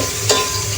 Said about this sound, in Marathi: टोमॅटो आपले छान तेलामध्ये परततायत.